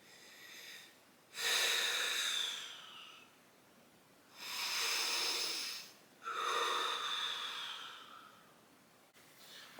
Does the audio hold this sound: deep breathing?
yes